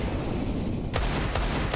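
Gunfire from a CS:GO match on the Vertigo map, shots punching through walls, two or three sharp loud cracks in close succession over steady game ambience.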